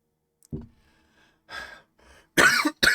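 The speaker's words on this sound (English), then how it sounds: "Clear my throat." One person coughs and clears their throat several times in short, rough, close bursts separated by brief pauses, the last two harsh and loud.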